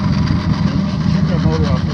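A boat motor runs steadily on Table Rock Lake during summer crawfish trapping, a close, loud, continuous engine drone with voices talking over it.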